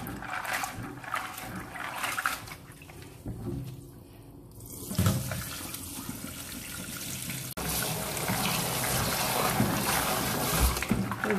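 Running tap water pours steadily over maize being washed and rinsed in a sink, with a brief quieter stretch before the flow resumes stronger; no talk.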